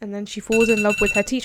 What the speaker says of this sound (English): Oh my gosh, that was my alarm.